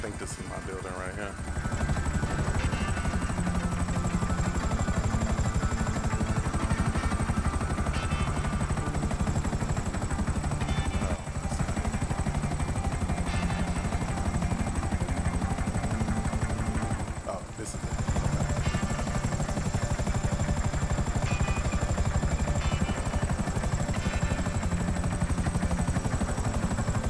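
A helicopter in GTA Online thunders with a loud, steady rotor roar nearly throughout, briefly dipping a couple of times, while someone talks over it.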